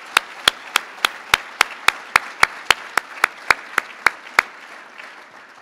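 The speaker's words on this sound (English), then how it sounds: "please stand up so we can give you all an applause" Slow, evenly spaced claps ring out one at a time as committee members at a César Chávez awards and scholarship event stand to be recognized. The crisp, regular beats sound close and fairly sparse rather than like a full crowd.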